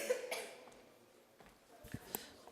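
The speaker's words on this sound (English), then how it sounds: "I think I'm going to get into a coughing bout" A person coughs several times in a quiet room, short sharp bursts spread irregularly, faint and close, with a throat-clearing sound among them.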